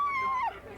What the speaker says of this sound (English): We have another dog team coming right behind them.